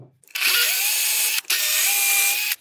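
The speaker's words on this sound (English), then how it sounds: "now that this is fixed in place, I can drill and tap these two screws." A power drill whines at high speed in two sustained bursts with a brief pause between, close and loud, drilling screw holes with a 3mm bit.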